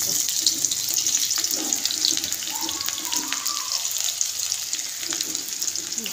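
Onions added to hot oil in a pan, giving a steady, crackling sizzle close up, with a faint watery hiss and occasional clinks throughout.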